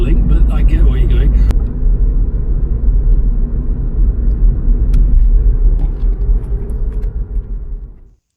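A car drives along a road somewhere in Europe, a steady loud rumble of engine and tyre noise that holds throughout and cuts off at the end, with a voice heard over it near the start.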